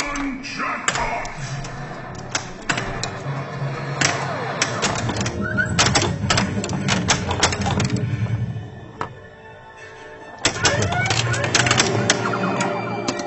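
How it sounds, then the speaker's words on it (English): Loud electronic sound effects and alarm-like sirens from a Star Trek pinball machine, with flipper and ball clacks and busy chiming effects filling the room, plus a brief lull before the noise resumes. "Star Trek just fills the room with noise"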